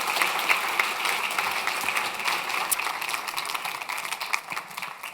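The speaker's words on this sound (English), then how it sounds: "A warm applause." An audience at the LIFE Awards 2023 ceremony claps warmly: dense, continuous applause from many hands, fairly close and steady for the whole stretch, with no speech.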